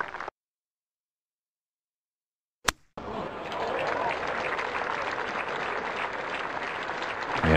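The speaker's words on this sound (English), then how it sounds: "And that clapping you hear is from the 11th green." Golf spectators at the 11th green of Augusta National during the 2015 Masters applauding, a sustained distant round of clapping rising after a brief silence and continuing steadily.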